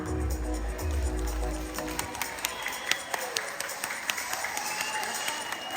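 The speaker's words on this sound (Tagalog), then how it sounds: "kayo na po ang humusga, pumalakpak." A crowd claps for several seconds at an elementary school alumni homecoming, a steady patter of applause with a low rumble at the start.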